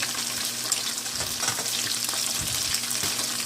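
Battered shrimp frying in oil, a dense, steady hiss and crackle of bubbling fat that stays close and even throughout, with no voices.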